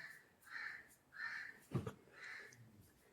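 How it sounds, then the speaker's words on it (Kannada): A crow caws three times, each call a harsh, drawn-out note well spaced from the next. The calls are faint and carry from some distance, with a brief knock between the second and third caw against quiet background noise. "ಕಾಗೆ ಬಂದ ಹಿಂಗೆ ಕಾವು ಕಾವು ಕಾವು ಮಾಡ್ತಾಯಿದ್ದೆ ನೋಡಿ"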